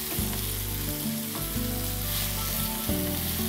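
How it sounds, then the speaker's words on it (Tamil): Tomato and onion gravy sautés in a pan with a loud, dense, continuous sizzle broken by a few stirring scrapes, all close up and with no voices. "இது வந்துட்டু நல்லா மேஷ் ஆகிற வரைக்கும் நல்லா வதக்க சொல்கிறாங்க"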